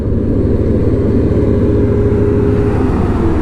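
A dump truck rolls past on the expressway near the Alaminos interchange, its loud, steady diesel rumble and tire roar filling the scene continuously and close by, with no voices.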